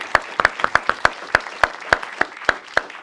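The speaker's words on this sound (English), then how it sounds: "we already gave him a round of applause, but I think we should do it again for Roger." Applause at a book talk on the American presidency, though only sparse, separate handclaps sound here, about a dozen sharp claps at an uneven pace, close and fairly loud.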